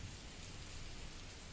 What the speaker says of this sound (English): It's raining a lot and water is entering the room.